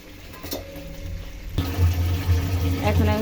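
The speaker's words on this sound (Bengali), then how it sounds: "এখন আমি জল দিয়ে দিব" Water pours into a cooking pot holding potatoes and tomatoes for a Bengali fish-head curry, starting as a faint trickle and then turning abruptly into a fuller, louder gushing fill that keeps running steadily to the end.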